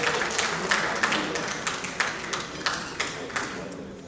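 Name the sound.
applause for the chairman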